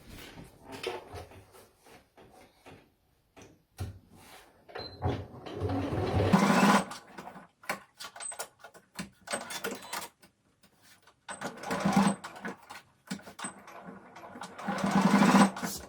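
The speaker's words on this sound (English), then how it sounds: "I'm just gonna top stitch on this side of my project" A sewing machine top stitches fabric for a coffee cup cozy in short bursts of rapid stitching, stopping and starting several times, close and fairly loud with quiet handling noises between runs.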